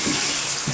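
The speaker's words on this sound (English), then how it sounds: "Again, I'm expecting terrific water pressure." High-pressure shower water pours into a re-glazed bathtub, a constant hissing spray heard up close throughout, with a few low thuds underneath.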